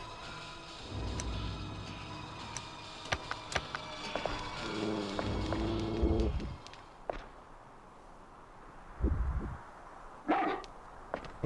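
Dog in the video game Haunting Ground barking and whimpering in short bursts over a low game soundscape, with scattered sharp cries and footstep-like thuds.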